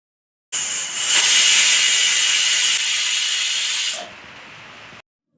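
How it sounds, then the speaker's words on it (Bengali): A pressure cooker boiling potatoes lets off a loud, steady steam hiss that starts abruptly, holds strong for about three seconds, drops to a softer hiss, then cuts off. "প্রেশার কুকারে দিয়ে দিতে হবে এরপর অল্প জল দিয়ে ঢেকে দিয়ে বসে দিতে হবে তারপর দুই তিনটা ছিটি মারলে নামিয়ে নেবেন"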